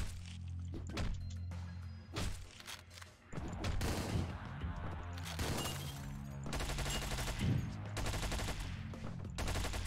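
Rapid bursts of gunfire from the top-down shooter game Hotline Miami, dense and loud across the whole stretch, with thuds and impacts mixed into a busy game soundtrack.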